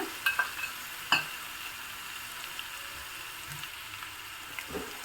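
Raw tender jackfruit pieces go into a hot pan and fry with a gentle, steady sizzle. A few sharp clinks and clatters of stirring come near the start and again near the end, close by and without speech.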